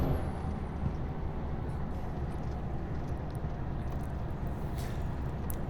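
Steady truck engine and road rumble in the American Truck Simulator game, with a continuous hiss like air brakes, fairly faint and even, no talk.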